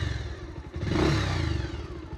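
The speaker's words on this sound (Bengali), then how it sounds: "আসলে গাড়ির ইঞ্জিনের সাউন্ডটা আসলে কেমন আছে আপনাদেরকে একটু জানাই" A five-year-old Bajaj Pulsar motorcycle with only its brake shoes changed runs nearby, its engine climbing in a rev around the middle before settling back to a steady mid-pitched idle.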